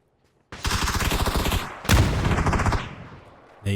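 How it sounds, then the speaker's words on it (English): Loud gunfire rings out in the PUBG video game, including a Dragunov rifle headshot: a sustained rapid burst of shots, a second heavy blast-led volley, then a final sharp report. "Navy Steals with a pretty sexy headshot there."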